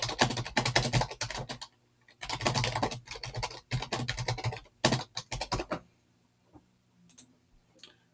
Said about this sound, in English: I can type in Gander Academy into a new message